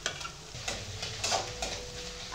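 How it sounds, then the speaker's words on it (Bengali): Ginger paste, garlic paste and chopped green chilli frying with onions in a pan while being stirred, with steady close sizzling and repeated scraping strokes of a spatula. "ততক্ষণ পর্যন্ত নাড়াচাড়া করতে থাকবো যতক্ষণ না আদা রসুনের কাঁচা গন্ধ চলে যাচ্ছে।"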